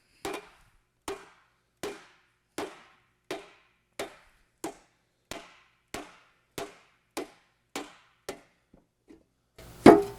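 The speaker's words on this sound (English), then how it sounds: "So there's a couple hammer blows, and we have that much rise in the panel" About a dozen sharp, evenly spaced hammer blows strike while a metal panel is shaped on a Talbot-Lago project. Each close, ringing impact dies away quickly, and a short rustling clatter follows at the end.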